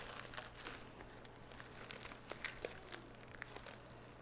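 Quiet crinkling and rustling of plastic packaging being unwrapped, with soft irregular crackles over a low steady hum.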